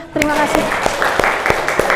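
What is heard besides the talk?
class clapping hands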